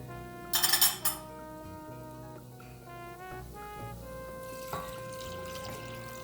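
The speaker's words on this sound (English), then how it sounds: "So now we're going to add water." Water pours into a cooking pot of red beans, a short bright splash near the start followed by a quieter second pour, close and alone under faint background music.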